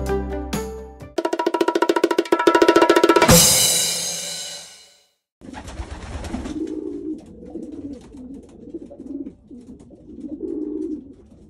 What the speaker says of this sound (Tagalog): Ito na yung mga ibon natin, 17 birds.